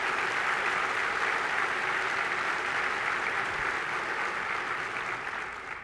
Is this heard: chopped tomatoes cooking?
no